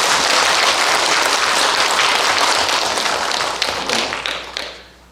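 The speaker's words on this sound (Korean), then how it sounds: "박수를 한번 부탁합니다" A packed audience at a Buddhist dharma talk given by a senior monk breaks into loud, dense applause, a full roar of clapping that fills the hall and fades out over the final second.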